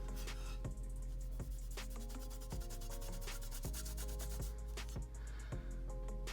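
Super Clean cleaner is rubbed onto a black-painted RC car part in rhythmic back-and-forth scrubbing strokes, close and fairly quiet, repeating about once per second.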